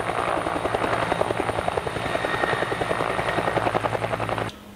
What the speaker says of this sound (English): This is helicopter. Wow, looking awesome. Wow, private helicopter.